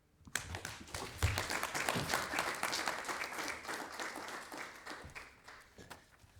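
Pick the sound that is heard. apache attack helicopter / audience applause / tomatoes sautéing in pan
audience applause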